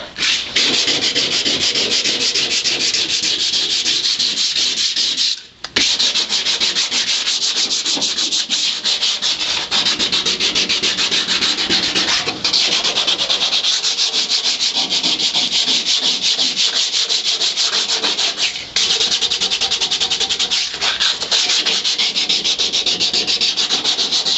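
A wire wheel grinds rust and paint off the floorpan of a 1962 Ford Falcon, a loud, continuous abrasive rasp that pauses briefly once before resuming, with no talking.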